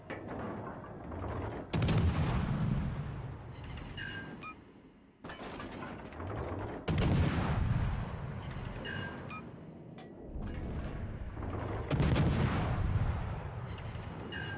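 Naval warship guns fire in a video game, with several heavy booming salvos spaced a few seconds apart, each followed by a rumbling decay.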